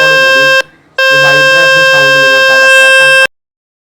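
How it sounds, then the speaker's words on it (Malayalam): A phone's speaker-cleaning function gives a very loud, harsh buzzing tone. It cuts out briefly, resumes for a couple of seconds, then stops abruptly. "അപ്പോൾ അവിടെ ഒരു വൈബ്രേഷൻ സൗണ്ട് നിങ്ങൾക്ക് കേൾക്കാൻ സാധിക്കും."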